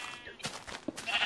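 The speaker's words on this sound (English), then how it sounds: "There's a black sheep." Sheep in Minecraft bleat in short bursts, a couple of faint calls at modest distance with light background noise and no talk over them.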